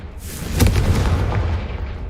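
A Confringo fire spell explosion in Hogwarts Legacy, a loud, booming blast that swells and rumbles for a couple of seconds, dense and close, with no voices.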